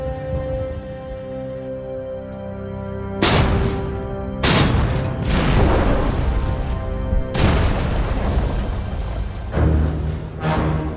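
Artillery shells burst near American defensive positions, a series of several loud booms spaced a second or two apart, each crashing in sharply and rumbling off over a low steady background hum.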